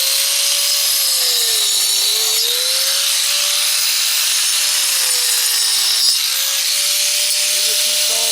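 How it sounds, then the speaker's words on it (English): A small hand grinder cuts old mortar out of the joints of a brick wall, giving a loud, steady, close-up grinding whine whose pitch dips briefly as the disc bites, running without a break. "get a little grinder like this."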